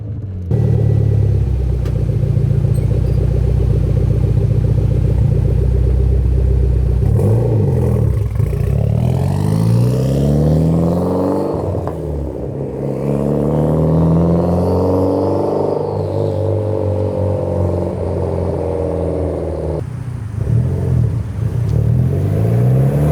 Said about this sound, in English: 18-wheeler sounding thing coming down the street. It's a Evo, so it's real nice to